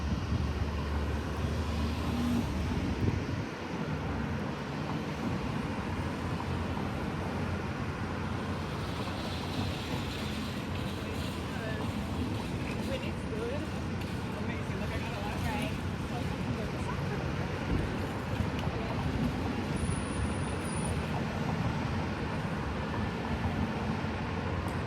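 Steady road traffic roars past in Des Moines, a continuous wash of car noise from a nearby street with no gaps, heard while standing still outdoors.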